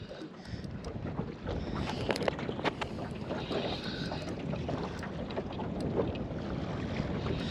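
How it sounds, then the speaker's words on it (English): Steady, rushing wind buffets a fishing boat out on Lake Macquarie, a constant broadband roar close to the microphone with no voices. "the wind's picked up quite a fair bit"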